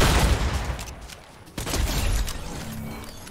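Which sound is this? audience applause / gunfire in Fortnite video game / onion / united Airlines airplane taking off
gunfire in Fortnite video game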